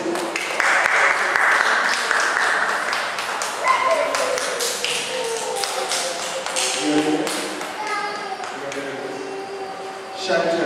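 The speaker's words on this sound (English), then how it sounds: "And give her a round of applause as she comes, please." An audience applauds with dense, sustained clapping that gradually thins out toward the end, while a speaker's voice carries over it.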